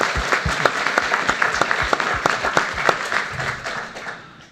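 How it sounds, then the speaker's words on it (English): Audience applause after a medical conference session, a room of clapping hands with distinct sharp claps that thin out and fade toward the end. "I think it really deserves an extra applause."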